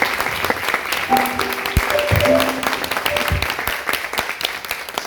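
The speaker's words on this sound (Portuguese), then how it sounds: "Vamos aplaudir a poderosa palavra de Deus." Congregation at a Catholic vocational retreat applauds after a Scripture reading, a dense, uneven burst of clapping with scattered voices and a few tonal sounds mixed in, lasting about five seconds.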